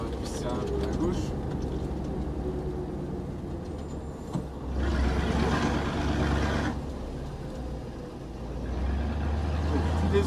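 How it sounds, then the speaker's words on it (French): A semi-trailer truck rumbles on an offroad track in the mountains between Tolar Grande and San Antonio de Los Cobres, a steady low engine drone with a surge midway, heard from inside a vehicle under conversation. "On a encore un semi derrière nous."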